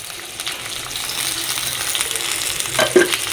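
Cauliflower frying in a pan with oil crackles steadily while being stirred, with a few louder scraping knocks near the end.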